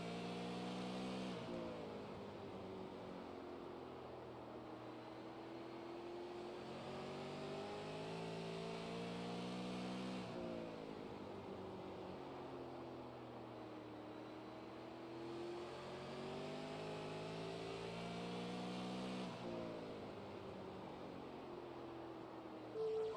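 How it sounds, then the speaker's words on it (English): Super Late Model race car engine heard onboard from the gearbox view at New Smyrna Speedway while entering a corner, a loud continuous roar whose pitch rises and falls in repeating waves as the driver lifts and accelerates. "listen to the engine"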